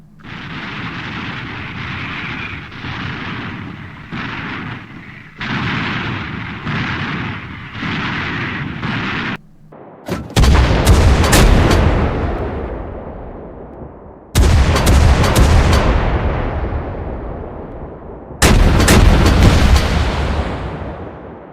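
Heavy guns of the Des Moines class cruiser USS Salem fire in old historical footage: a rapid series of loud booms, then three huge blasts spaced a few seconds apart, each decaying into a long rolling echo.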